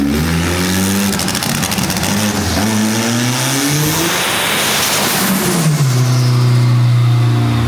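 A turbocharged Toyota Camry engine revs hard close by, rising and falling through several pulls before surging to a high, sustained roar with a whistling turbo whine near the end.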